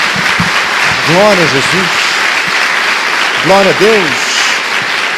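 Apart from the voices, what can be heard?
congregation applause in church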